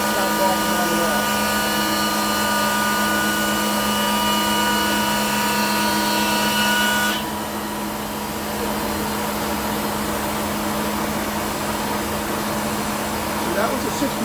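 Shopsmith planer fitted with a helical cutterhead, spinning at 4,000 RPM, whines steadily and loudly as oak feeds through, the pitch shifting partway once the board clears and the machine keeps running alone.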